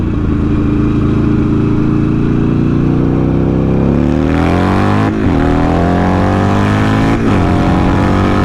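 A Buell XB9S motorcycle engine revs hard and close, climbing steadily in pitch from a rumbling idle, then pulling back and surging again twice in quick throttle blips, very loud with no talking.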